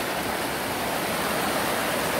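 Swift water of the Okoy river rushing steadily close by, a dense, continuous roar that stays loud and even throughout with no voices over it.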